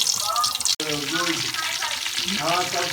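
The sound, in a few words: fish frying in hot oil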